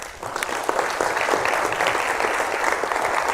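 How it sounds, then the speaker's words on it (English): An audience at a talk on trauma research claps for the military veterans in the room, applause swelling after a brief softer start and then running steady and full. "Let's clap it up for the vets."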